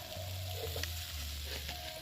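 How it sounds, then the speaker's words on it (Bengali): At a family New Year picnic, potatoes and onions fry in mustard oil with a soft, steady sizzle. A low droning hum runs underneath and faint clicks punctuate it, with no talking. "মা এখানে আলু পেঁয়াজ কলি ভাজছে"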